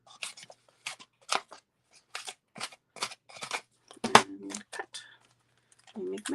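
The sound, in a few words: scissors cutting paper for a card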